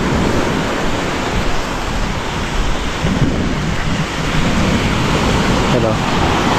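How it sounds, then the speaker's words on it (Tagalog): Big sea waves pound a shoreline near a hut, a loud, continuous broadband roar of surf with no breaks, heard close and steady throughout. "Mas lalong lumaki yung alon."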